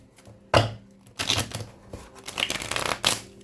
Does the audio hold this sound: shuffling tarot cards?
yes